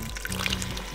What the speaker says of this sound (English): now let's put a little bit of water in here, shall we?